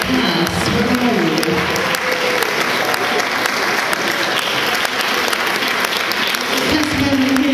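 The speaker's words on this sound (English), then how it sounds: "Give these guys a round of applause." An audience at a film festival awards ceremony claps continuously, a full and even round of applause that holds steady from start to finish, with faint voices mixed into the crowd.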